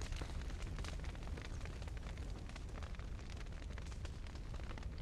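Fire burning on the player character in The Witcher 3, a steady roaring crackle with dense broadband rush and low rumble, continuous and loud for the whole stretch with scattered sharp pops.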